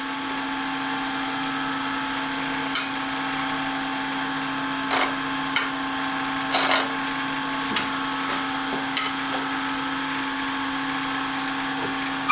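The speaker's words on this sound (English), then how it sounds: "I'm going to shear scrape this a little bit" Steady hum of a wood lathe spinning a beginner's wooden bowl while a shear scraper works the surface, with a few brief light scraping bursts rising over the motor drone; no talking.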